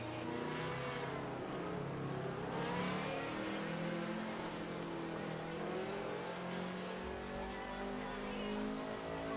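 An Alfa car engine revs and accelerates in the racing game Assetto Corsa, with rising and falling pitch through gear changes and brief tire squeal, with faint voice underneath.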